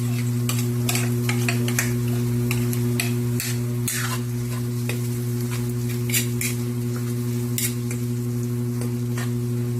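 Bagoong (shrimp paste) is stirred as it sautés in a pan, with scattered scraping and clinking spoon strokes over a soft sizzle and a constant low electrical hum, and nobody speaking.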